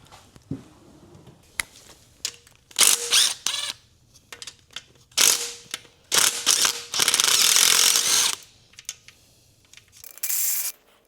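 Hand tools click and ratchet while a truck's gear shifter is being removed, with scattered short clicks followed by several bursts of rapid ratcheting, close up and with no talk.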